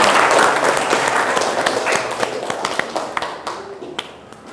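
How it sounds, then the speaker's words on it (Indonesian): An audience claps in a classroom setting, a burst of applause that is loudest at the start and thins into scattered individual claps as it fades. "Ya, kita kasih aplaus lagi."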